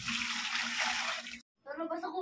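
Tap water pours in a steady, rushing stream into a container for mixing 15 liters of homemade dishwashing liquid, then cuts off abruptly before a voice speaks.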